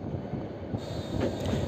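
The Tista Express slows into Gafargaon station in Bangladesh, heard from on board as a continuous low rumble of wheels and carriages, fairly loud and close, with no voices.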